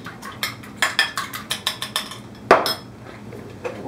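A fork taps rapidly against a bowl while eggs are mixed, about a dozen quick clinks, then one louder clank and a pause.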